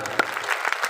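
At a village temple during a Ras Leela performance, a crowd claps in a short burst of scattered, distinct handclaps close by.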